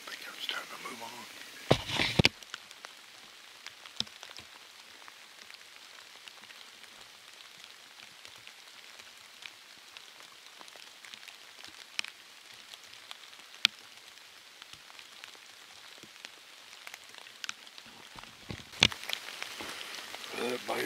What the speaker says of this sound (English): It's been raining steady for 45 minutes.